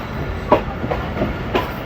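A train rolls into the Gujar Khan railway station yard in Pakistan during rain. Rhythmic clickety-clack wheel beats sound close and loud over a steady rumble.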